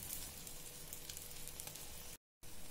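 Paratha frying in a pan with egg for a chicken roll, a steady close sizzle and crackle running throughout, briefly dropping out just before the end.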